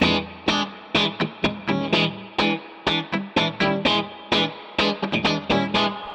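Electric guitar through a custom Two-Rock Bloomfield Drive amplifier set with heavy reverb, played as a rhythmic run of sharp strummed chords and stabs, each ringing out into a wash of reverb, loud and up close with no talking.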